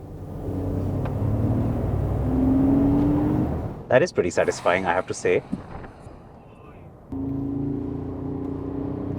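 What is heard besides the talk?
Mercedes-Benz G 580 electric artificial engine sound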